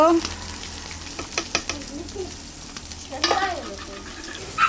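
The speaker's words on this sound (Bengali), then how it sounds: "গরম কড়াইয়ে তেল দিয়ে দিলাম। এখন আগে থেকে কেটে রাখা পেঁয়াজ আর রসুন দিয়ে দিব।" Chopped onion and garlic sizzle steadily in hot oil in a pan on a clay stove, with occasional clinks and scraping of a utensil, fairly quiet and close.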